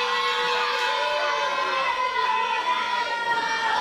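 A large wrestling crowd in a Baltimore arena roars and chatters continuously, a loud, dense wash of voices with scattered shouts and no pauses.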